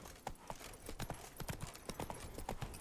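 Hooves of Roach, a horse in the video game The Witcher 3, clip-clop in a steady rhythmic gait, close and moderately quiet, with faint background game ambience.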